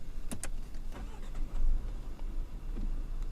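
A 2020 Audi A4 45 TFSI starts up with a few quick mechanical clicks and a short crank, then settles into a low, quiet idle rumble, with no talking.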